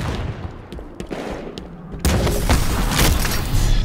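Gunfire and booming explosions in Halo 5 combat, scattered shots at first, then a sudden loud surge of heavy, continuous firing for the final two seconds.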